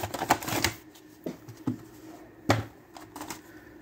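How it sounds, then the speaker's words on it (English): Plastic packaging around a Star Wars Black Series New Republic Security Droid action figure is pulled open, giving quiet crinkling and soft tapping rustles in irregular bursts, close and faint, with no talk. "So I'm going to take them out of the plastic,"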